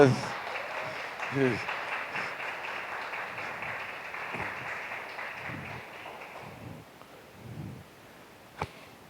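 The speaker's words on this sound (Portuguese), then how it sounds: "Pode aplaudir o Senhor por essas vidas aí?" A church congregation at a communion service applauds, a broad wash of clapping that is loudest at the start and slowly fades, with a voice talking over it.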